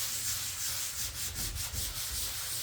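Steady, close scraping and rubbing of a sanding sponge on a drywall patch in a ceiling, continuous with faint rhythmic strokes and no talking.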